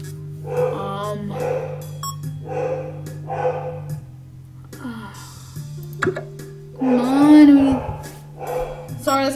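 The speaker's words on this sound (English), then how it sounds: "Sorry, that's my dog" A pet dog barks and whimpers from downstairs in short bursts, heard over a video game soundtrack and a person talking close by.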